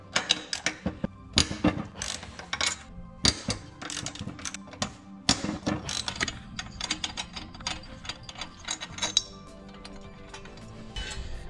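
Mechanical clinks and ratcheting clatter of metal parts as the cylinder head and pushrods come off a 212 Ghost small engine during teardown, a dense run of close, irregular taps and scrapes with no talk.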